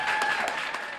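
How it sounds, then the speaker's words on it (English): A brief burst of audience applause for a Fort Worth ISD Wall of Fame honoree, a dense wash of clapping that fades slightly over a second. "Big round of applause."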